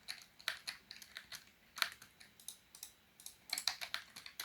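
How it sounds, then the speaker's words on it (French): Quiet, close keystrokes come from a computer keyboard at an irregular pace, with faint clicks in small bursts and short pauses. No one speaks. "N'hésitez pas à me dire si le son de mon clavier est trop fort"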